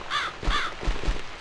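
In The Cat Lady video game, a crow on a balcony gives two loud, close, harsh caws, followed by a low rumbling thuds with no talk.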